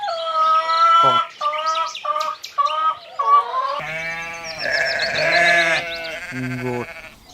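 A goat bleating, a run of short, wavering cries in quick succession followed by longer, lower, quavering bleats, loud and close with nothing else behind them.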